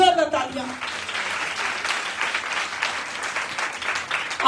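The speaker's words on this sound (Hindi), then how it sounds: "उसके लिए जोरदार तालियां" Loud applause from an audience at a women's empowerment meeting, dense and sustained for several seconds after a brief voice at the start, ending with a voice returning.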